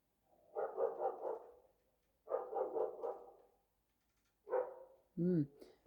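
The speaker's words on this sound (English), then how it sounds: "that two dogs barking at each other?" Two dogs bark back and forth outdoors in three bursts of rapid, fairly distant barks, with a closer yelp at the end and quiet gaps between the bursts.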